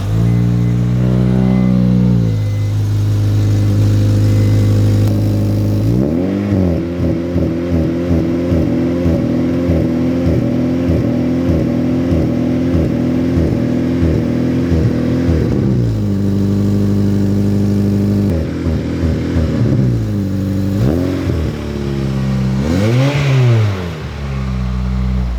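An Acura RSX with a lightweight crank pulley revs hard and quickly from idle, climbing through repeated high-rpm blips and dropping back. The engine note is loud and close, with no talking.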